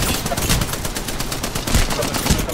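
Sustained automatic weapon fire in the battle royale shooter Apex Legends, loud and continuous with rapid repeating shots and heavier thumps near the end, with little talk audible.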